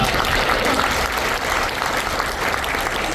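Dense, loud applause from a large crowd at a commemorative talk concert, a steady wash of many hands clapping without pause for the full stretch.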